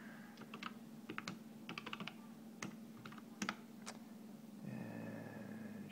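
Keys on a USB computer keyboard clatter in quick, uneven bursts of typing, fairly quiet and close, with a steady low hum running underneath and a faint change in the background tone near the end.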